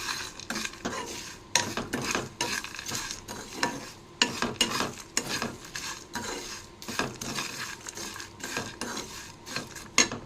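Spices, including dried mango powder, being mixed into a simple snack in a pan: quick, uneven rounds of a spoon scraping and clattering against the metal over a faint sizzle, close up.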